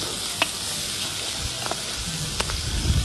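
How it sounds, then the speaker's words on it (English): Chorizo fries with beans in a pan, giving a steady, loud sizzle with a few light clicks and pops scattered through it. "Okay, so we got the chorizo inside already. We're cooking it with the beans."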